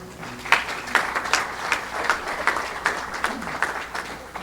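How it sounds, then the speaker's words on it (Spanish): Church congregation applauding in praise, a loose patter of many hands with sharper individual claps standing out, fairly close and steady throughout. "Un aplauso al Señor."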